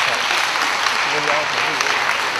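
At an international Chinese-language debate tournament, a hall audience gives warm sustained applause to welcome the two teams, while a voice talks over the clapping partway through.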